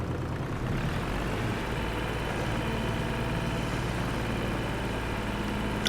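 Tractor engine in Farm Sim 25 idling and running steadily at a low, even drone, close and unchanging throughout with no talking.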